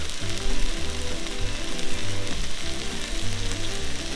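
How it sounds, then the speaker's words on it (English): Spices and chili, with oregano, chili powder and cayenne, sizzle loudly and continuously in a pot for chili, a close, dense frying crackle over a low rhythmic hum. "Mix that up and let it cook for another couple of minutes."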